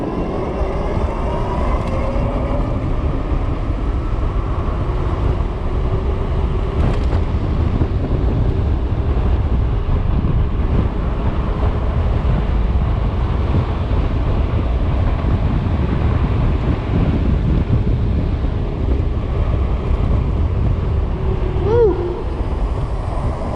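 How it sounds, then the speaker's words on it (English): Heavy wind buffets the microphone throughout a headwind ride on a Super73 ZX electric bike in sport mode, a loud continuous low roar with faint road noise underneath. "there is a headwind, so we're trying to counteract what's going on with physics"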